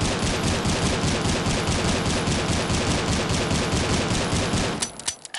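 Rapid pistol tap-fire in the mobile shooter Critical Ops, a dense unbroken stream of sharp, loud shots for about five seconds that cuts off abruptly near the end with a few stray clicks.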